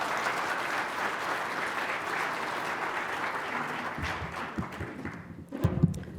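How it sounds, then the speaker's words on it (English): A crowd applauding steadily, dense clapping that thins out and fades toward the end, leaving a few scattered claps and light rustling. "How about a round of applause?"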